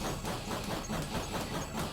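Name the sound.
weapon sound effect like a steam train, from a video game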